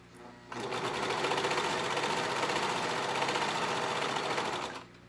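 A serger sewing machine stitches slippery fabric in one steady, close whir that starts abruptly after a short pause, holds an even rapid rhythm for about four seconds, then stops.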